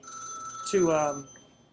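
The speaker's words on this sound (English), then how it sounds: "And that's my phone." A mobile phone rings during an interview, a short electronic tone over a quiet room, followed briefly by a voice.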